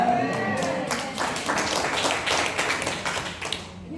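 A church fellowship gathering of an Aglow chapter in Malang applauds, a crowd clapping in a lively, moderately loud burst that thins toward the end, with some voices mixed in.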